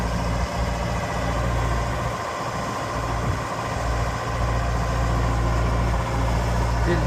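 The diesel engine of a 2006 Genie GTH844 telehandler runs at a steady idle-like throb while the machine tilts, a close, continuous low rumble with slight fluctuations in load.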